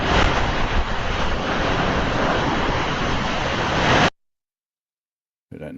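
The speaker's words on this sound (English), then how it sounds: "And that'll be a water deluge test" Water deluge test at the Starbase launch pad: a loud, dense roar of gushing water with wind buffeting, running steadily for about four seconds before cutting off abruptly, then returning faintly after a gap of silence.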